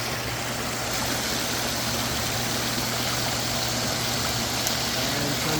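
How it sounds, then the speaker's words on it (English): Shoulder jets on a Hydropool Self Cleaning 679 Gold hot tub running at full power, a constant pump hum with rushing, splashing water, steady throughout and no talking. "your shoulder jets, we tend to leave them off because when they're on full power they splash a lot"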